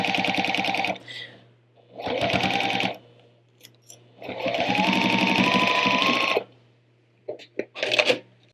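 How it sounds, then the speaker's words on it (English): Sewing machine stitching a quilt seam, close and clear, running in several separate bursts of rapid rhythmic clatter with short pauses between, plus faint handling clicks near the end. "we'll go to our sewing machine and we're going to stitch this together"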